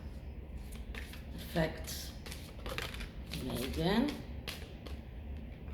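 A deck of playing cards riffled in a quick shuffle during a tarot-style reading, with brief crisp flutters standing out from steady background noise as someone talks throughout.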